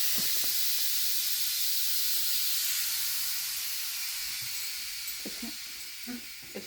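Air hisses steadily from rear air shocks being lowered on a vehicle, a strong continuous close hiss that slowly fades, with a few faint knocks and creaks toward the end.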